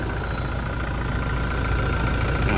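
Toyota Fortuner engine idling in a workshop, a steady, even mid-pitched hum with a faint whine, unchanging and close for a couple of seconds.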